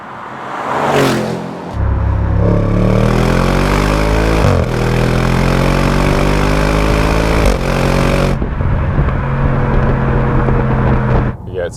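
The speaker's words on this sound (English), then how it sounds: "We've got the exhaust in mode 4 at the moment, which is basically valves open, so it's pretty loud" An Audi RS6 exhaust roars loudly with its valves open as the engine revs up and holds, pitch climbing and easing through gear changes, then cutting off abruptly.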